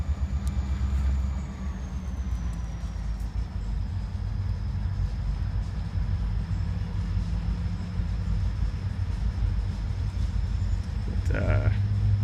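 A train with several engines rolls past nearby, a steady heavy rumble and rolling clatter with a faint high whine that holds for the whole stretch without letting up.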